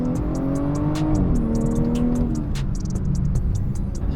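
A car engine revs in quick throttle blips, sharp rising and falling pitch sweeps with crisp clicks and pops, loud and close for a few seconds.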